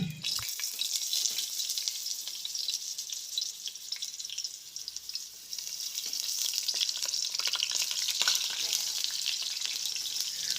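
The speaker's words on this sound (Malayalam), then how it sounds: "3 തക്കാളിയും അതുപോലെ തന്നെ ഇതും വഴുതനങ്ങയും കൂടി ഒന്ന് ഫ്രൈ ചെയ്തെടുക്കാം" Oil sizzles and crackles steadily as tomatoes and brinjal fry in a pan, with occasional stirring scrapes, close up and continuous.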